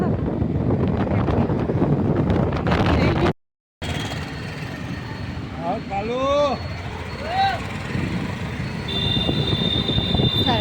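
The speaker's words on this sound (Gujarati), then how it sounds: "મેટ્રો જાય છે" A metro train passes by with a steady, loud rumble mixed with wind buffeting, while voices chat in the background throughout.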